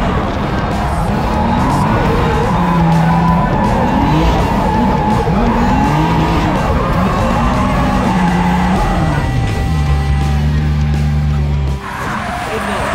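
A Nissan 350Z drifts into a parking spot, its tires squealing loudly in long warbling skids over a growling engine, before the screech cuts out near the end.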